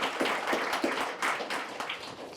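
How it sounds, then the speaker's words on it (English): Audience applause for Ron at an unveiling at the Canadian Automotive Museum, a steady wash of clapping from a crowd that is loud and close and continues throughout with no speech over it. "So another round of applause for Ron."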